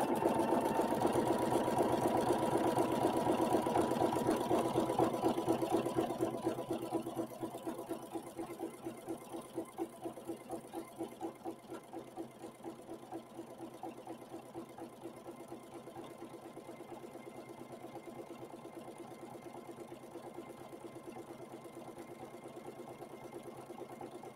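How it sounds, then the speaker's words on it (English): A sewing machine stitches fabric in a steady rapid mechanical whir, louder for the first few seconds, then continuing more quietly at an even pace. "now I'm going to start stitching here."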